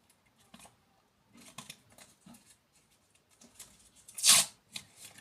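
Collectible cards have their backs torn open by hand, giving a few short, dry paper rips and crinkles spread over several seconds, with one sharp, louder tear near the end.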